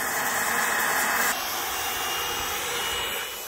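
A homemade turbojet engine at a burn barrel roars steadily with a high whine and a harsh, close, loud rush, easing slightly partway through as it spools along.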